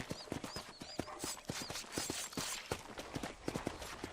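A frightened horse in the Western game Red Dead Redemption, its hooves clopping in a steady rapid rhythm close by over a continuous outdoor ambience, with faint high bird calls scattered through.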